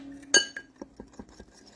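An egg being mixed in a glass dish with baking powder for a microwave omelet: a loud clink of utensil on glass, then a series of lighter, rhythmic taps and scrapes, close and alone.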